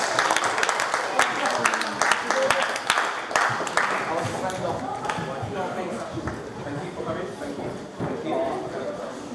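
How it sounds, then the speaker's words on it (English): School talk audience giving a round of applause, a dense wash of clapping from a crowd that is loud at first and gradually thins out, with some voices mixed in. "Everyone give them a massive round of applause as they come down."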